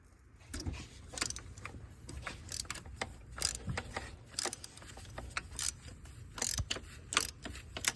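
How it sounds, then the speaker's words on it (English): A ratchet on a long 3/8-inch drive extension turns the oil filter housing on a 2010 Chevrolet Cobalt 2.2L, producing steady bursts of close, rapid metallic clicking throughout. "I'm just going to use a long 3/8 drive extension to get my ratchet up above"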